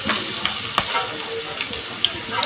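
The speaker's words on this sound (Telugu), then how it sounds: "వేసుకున్న వాటిలో ఇప్పుడు ఉల్లిపాయలు వేసుకోవాలి. అవి బాగా అలా వేగుతూనే ఉండాలి." Green chillies and onions frying in oil in a kadai, a steady close sizzle and crackle with a few sharper pops and faint stirring scrapes.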